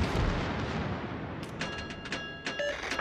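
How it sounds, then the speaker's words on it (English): Naval artillery fire in the World of Warships video game, a heavy rumbling blast that fades and is followed by several sharper distant shots and crackles. "Concentrate fire on the enemy warship."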